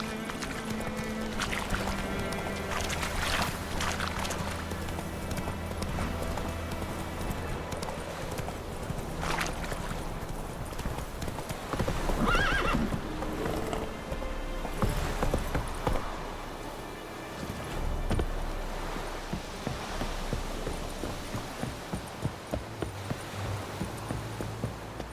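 Roach the horse in The Witcher 3 game, steady clip-clop of hooves running throughout with game music and ambience beneath, near and continuous.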